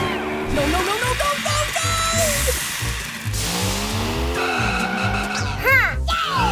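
A cartoon car skids with squealing tires and then drives off, its engine revving loudly over a busy background of music and effects, with brief shouting voices.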